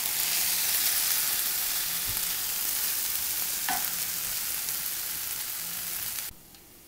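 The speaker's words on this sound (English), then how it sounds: "now to this I'm adding the paste that I made out of the sesame and the peanuts. I'm going to go ahead and add this to this. Give it a good mix." Sesame and peanut paste being stirred into a pan of frying eggplant curry, with a steady close sizzle and soft scraping mixing strokes that stop abruptly near the end.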